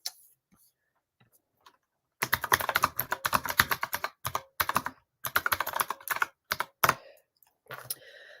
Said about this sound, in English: love my clacky keyboard.